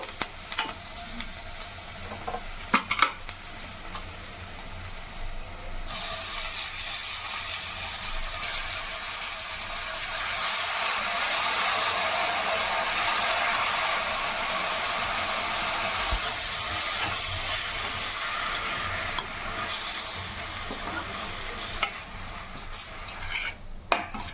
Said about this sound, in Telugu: ఇప్పుడు మనం పాలకూర యాడ్ చేద్దాము